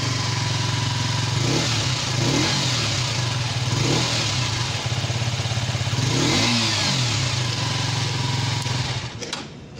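Exhaust note of a 2021 KTM RC 125 BS6 motorcycle heard close up as a loud, steady buzzing idle, broken by a few quick throttle revs, before it cuts off near the end.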